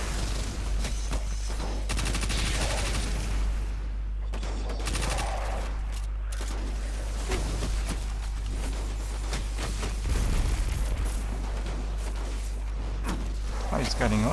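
Heavy-recoil weapon firing in Destiny 2, bursts of rapid gunfire and booms scattered across a dense, noisy game mix with a steady low hum underneath and someone talking over it.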